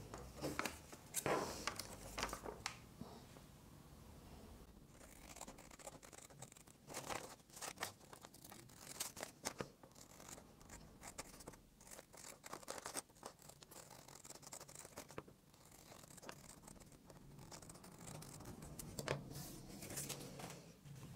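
Scissors snip and crunch through paper while cutting out a fabric face-mask pattern, giving irregular close crinkling cuts and rustles of handled sheets over roughly twenty seconds, with no talking.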